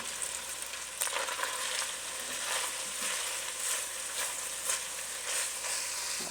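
Italian sausage and onions frying in a soup pot, a dense continuous sizzle with repeated stirring scrapes and spoon clicks throughout, close and fairly loud.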